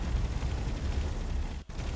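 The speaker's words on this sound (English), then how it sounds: "You can hear all the explosions we've got going off against the hull." Explosions pounding a spaceship hull in the game Space Engineers form a dense, continuous rumbling barrage with no gaps, broken only by a brief dropout near the end.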